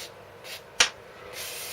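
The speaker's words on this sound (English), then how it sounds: "Just spray everything." A few soft hissing sprays of cleaner from a spray bottle onto a greasy diff lock rear end, with one sharp, louder spritz in the middle, close by and otherwise quiet.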